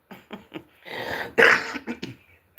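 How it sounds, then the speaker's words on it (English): A wet, productive cough: a few short hacking bursts, then a louder, longer fit of coughing close to the microphone, with no talking. "Excuse the cough, it's productive."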